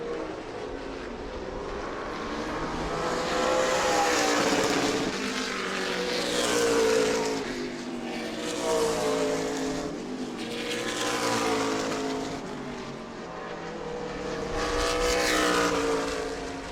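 Race car engines roar close by at New Smyrna as they rev hard on throttle, rising and falling in repeated loud swells with a layered, buzzing tone and no talk.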